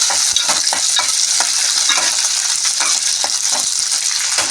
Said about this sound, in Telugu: ఇప్పుడు ఆయిల్ హీట్ ఎక్కింది కదండి పచ్చిమిర్చి వేసుకున్నాను ఇవి కొద్దిగా వేగాలి